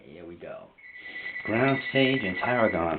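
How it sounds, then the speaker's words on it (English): A phone rings in a home kitchen with a sustained tone that starts partway through, under someone talking over it while cooking. "that's my phone ringing there"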